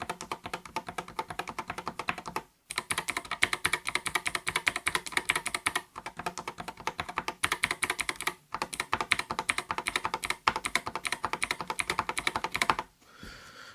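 Rapid typing runs on an 8BitDo Retro Mechanical Keyboard M Edition fitted with Akko Rosewood switches, giving a close, crisp clicky clatter in three or four bursts separated by short pauses.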